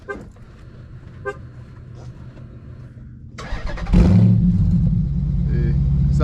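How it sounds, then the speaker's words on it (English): A Chrysler 300 SRT8 cranks and fires on a cold start, its exhaust bursting into a loud, deep roar that settles into a heavy, rumbling idle, with a voice and faint beeps heard before ignition. "But that's how it sounds on the cold start"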